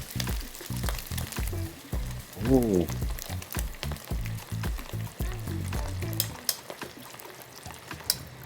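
Shrimp toast deep-fries in hot oil in a wok, a steady close sizzle and bubbling while someone speaks briefly over it.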